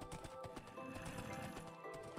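Quick rhythmic hoofbeats of a galloping horse in Minecraft, faint and steady over a layered game-music backdrop, with no talking.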